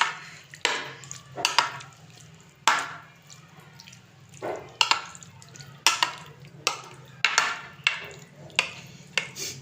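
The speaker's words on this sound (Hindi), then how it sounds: "इसे अच्छे से हम मिक्स कर लेते हैं।" A spoon stirs boiled potato into yogurt for aloo raita, making a steady run of soft knocks and scrapes against the bowl, about one every second, close up and with no talk.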